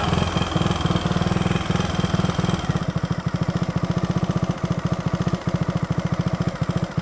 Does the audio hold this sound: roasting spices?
no